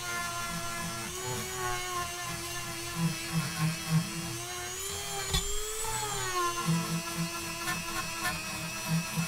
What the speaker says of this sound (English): The Dremel's getting quite warm, so I may be reaching a limit for a little bit.